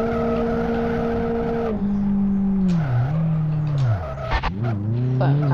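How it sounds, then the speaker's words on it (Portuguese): A turbocharged Toyota AE86 drifts in Live for Speed, the engine droning steadily before the pitch drops and swoops through gear and throttle changes while tires squeal, loud and close. "Até que eu tô fazendo drift bem, né?"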